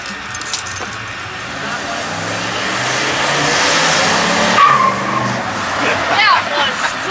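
A show car nicknamed The General chirps its tires in a short attempted burnout, a brief squeal over a steady engine rumble, with people talking nearby.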